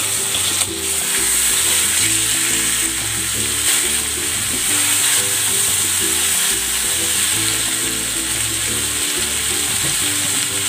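Chicken legs fry in a small amount of cooking oil in a pan, giving a steady, dense sizzle that runs unbroken throughout, close and fairly loud, with a low background hum and no talking.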